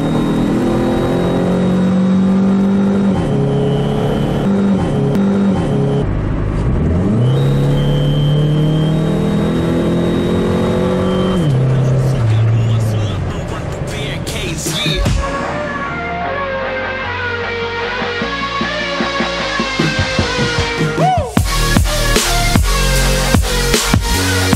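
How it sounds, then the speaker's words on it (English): A PT Cruiser GT with a Mopar Stage 1 tune revs loudly and repeatedly, its engine note climbing and falling, with sharp crackling pops breaking through during the later revs. "the crackly pops that it makes when you rev"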